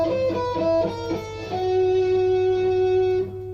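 A six-string guitar picks a quick run of single notes, then holds a ringing note that fades; clean, close and alone.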